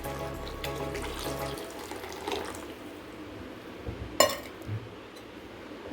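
Water runs steadily from a tap into a pot while cooking sodhi, then cuts off, followed by a clink of metal and quieter splashing.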